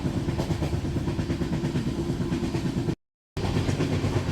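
Continuous rumble and rattle of a moving Chennai to Delhi train heard from inside, steady and fairly loud, with a brief dropout of silence.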